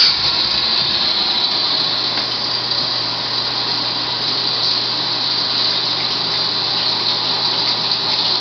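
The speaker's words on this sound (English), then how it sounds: "So I'm going to just start adding water here right now." Water pumped into a mash tun on a homebrewing rig to fill it for mashing, a steady rushing hiss with a low pump hum underneath, constant and close throughout.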